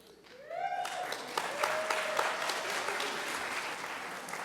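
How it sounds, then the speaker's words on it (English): Audience applause at an evening summer soiree honoring a rabbi in a synagogue sanctuary, a steady crowd clapping that swells in and holds over a few seconds, with a rising whistle-like tone near the start. "Laughter and clapping is fine tonight."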